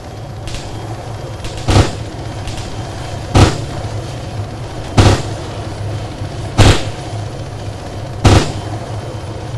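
Sustained rotary 7.62 minigun fire in the ArmA 3 video game from a UH-80 helicopter, five loud, evenly spaced bursts about every second and a half over a steady engine drone.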